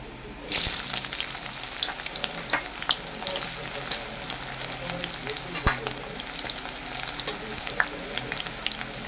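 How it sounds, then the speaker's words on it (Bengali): Onion drops into hot oil for a mutton curry and fries with a loud, steady close sizzle, broken by occasional stirring scrapes and crackles, with no voices. "ওই তেলেটা পেঁয়াজ দিয়ে দেবো।"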